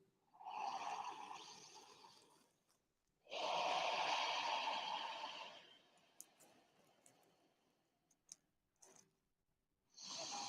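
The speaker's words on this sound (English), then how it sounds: "Deep exhale." Deep yoga breathing during a relaxation class: a long airy exhale, then a second, stronger breath through the nose and mouth a moment later, close and quiet, with soft clicks between and no talk.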